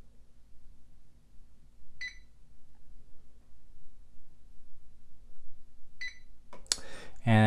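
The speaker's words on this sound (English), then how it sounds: "until you hear three beeps." Two short, high electronic beeps from a UPS battery backup sound seconds apart over a low hum, followed by a louder tone and a burst of noise at the end.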